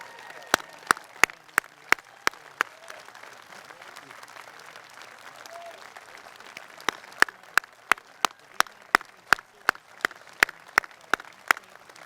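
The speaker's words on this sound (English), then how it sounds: "I would like to us all publicly give you a round of applause" Scattered, widely spaced claps ring out at a Vietnam veterans memorial wall dedication, sharp individual hand claps over quiet outdoor background, pausing midway before resuming in a slow, uneven run.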